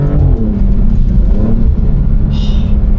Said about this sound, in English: Also there's downshifts, some very good crackles, sounds amazing.